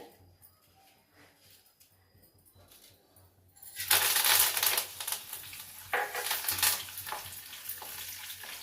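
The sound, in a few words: tempering seeds sizzling in hot oil for pulihora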